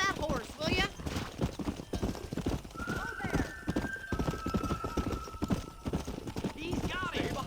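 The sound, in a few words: horse hooves and neighing in the video game Red Dead Redemption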